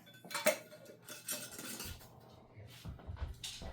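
Glass canning jars clink and knock against each other and the metal canner as they are set inside one by one, a few sharp close clatters with quieter shuffling between.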